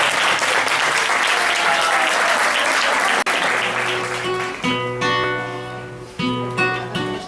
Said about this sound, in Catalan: un aplaudiment pels pirates